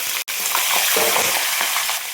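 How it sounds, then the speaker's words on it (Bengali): Cauliflower florets dropped into hot oil in a pan, a loud close crackling sizzle that starts after a brief gap and keeps bubbling evenly, with no voices. "তেলটা গরম হয়ে গেছে, আমি কপিটা দিয়ে দিলাম"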